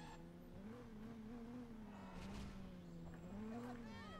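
A car engine hums steadily as the vehicle drives in Driver San Francisco, its pitch rising and falling gently with throttle while the sound stays fairly quiet and constant.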